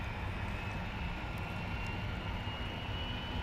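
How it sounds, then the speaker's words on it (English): Business jet engine spooling up on the ramp at an airport, a steady loud roar with a thin high whine held throughout. "I hear a jet over at over one of the biz jets next to us, kind of firing up."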